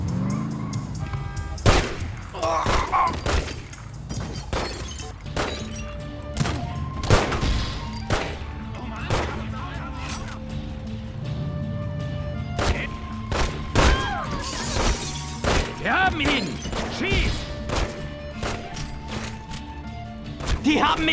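Gunfire rings out in The Godfather Don Edition video game on PlayStation 3, with scattered shots and rapid bursts mixed with thuds and crashes. People talk over much of it, and game sounds play underneath.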